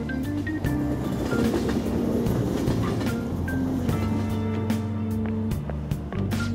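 Steady rumble of a train running on rails in the video game Persona 5, a continuous droning ride with low mechanical hum and faint clatter, no voices.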